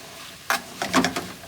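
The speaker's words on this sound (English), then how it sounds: "we're getting our meat cooked down" Meat browning in a pan for stroganoff gives short bursts of crackling sizzle and stirring scrapes, close and fairly loud, three or four quick clusters with no talking.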